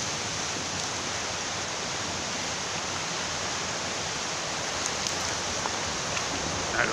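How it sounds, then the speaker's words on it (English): A river running strongly outdoors, heard as a steady, even rush of flowing water that fills the whole clip at a moderate, constant level with no talking. "River's running pretty good."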